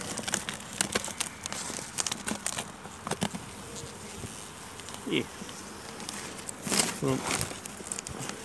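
Honey bees buzz around an opened beehive, a close hum with passing individual bees and crinkling and tapping handling noises as the hive is checked, under faint background sounds.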